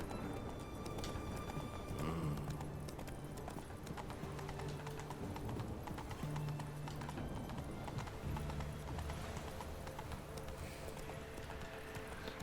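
Horse hooves clopping on a road in The Witcher 3, a steady rhythmic trot heard close and continuous over soft ambient game music and faint background noise.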